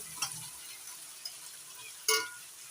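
Fried pointed gourd and potato pieces are stirred into cooking masala, giving a faint sizzle under a few quiet scraping clinks of a spoon against the pan, one sharper near the end.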